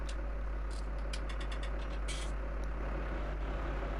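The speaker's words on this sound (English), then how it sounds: "there should be enough power on this tractor to pull the bales" A tractor engine runs steadily while pulling bales, a constant low rumbling drone that stays even throughout, with faint ticking or rattling on top.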